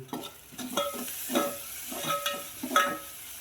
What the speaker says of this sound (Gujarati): ડુંગળી મરચાં લસણ આદુની પેસ્ટ આદુ નાખીને વઘાર કરે છે શેકાય છે ડુંગળી